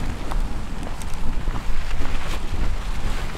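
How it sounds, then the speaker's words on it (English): Steady outdoor wind buffets the microphone at a house construction site, a continuous broadband rumble with gusty swells that never drop away. "it's getting windy again"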